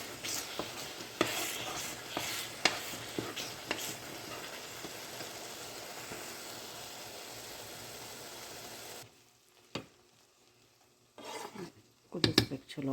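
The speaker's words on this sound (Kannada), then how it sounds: "ಗ್ಯಾಸ್ ಸಿಮ್ಮಿಟ್ಟು ಕುದಿಸ್ಬೇಕು" Spicy Andhra-style tomato pickle bubbling and sputtering on a gas stove at low flame, a steady dense simmer for about nine seconds, then near quiet with a few scattered stirring clinks and knocks of a utensil.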